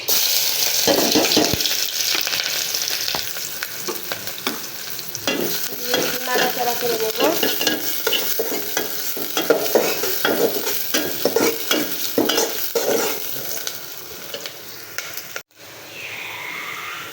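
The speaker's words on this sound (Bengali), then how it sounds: "এই তো এখানে পেঁয়াজ কাঁচামরিচ ভাজা হয়ে গেছে" Onions and green chillies sizzle and fry in fish oil in a pan, with steady spatula stirring and scraping over the continuous crackle, loud and close, plus a brief splash of water near the end.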